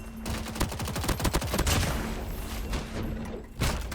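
Rapid bursts of weapon fire with a video game elimination effect, dense repeated shots carrying on loud and close for several seconds with a brief heavier hit near the end.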